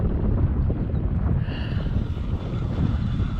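Steady wind buffets the microphone on a lake at sundown during kayak fishing, a dense continuous low roar with gusty rumble and no voices.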